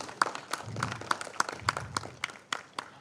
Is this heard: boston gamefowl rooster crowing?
no